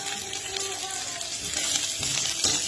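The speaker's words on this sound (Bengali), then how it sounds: "পেঁয়াজটা ভাজা হয়ে যায়।" Onion frying in a pan with panch phoron spices, a close crackling sizzle with light stirring clatter over a brief few seconds, with no talking.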